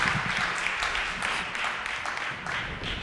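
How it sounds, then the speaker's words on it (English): An audience at an evening award event bursts into steady, dense applause from many hands throughout, with faint voices underneath. "let's clap it up"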